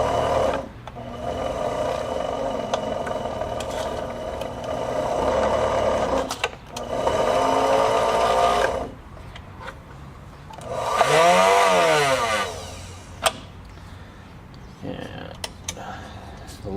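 A rewired, freshly oiled Kenmore 71 sewing machine runs in bursts, whirring and clattering steadily, stopping and starting several times, with a brief whining stretch near the end and soft talk at moments.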